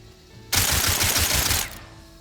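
Rapid fanned revolver shots in Hunt: Showdown, a dense burst of about a second of quick, loud cracks fired back to back, heard alone.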